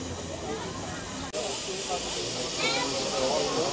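A steam locomotive on a special steam train trip near Ramsen on the Swiss side hisses steadily and loudly in a broad wash of sound, with a brief break partway through.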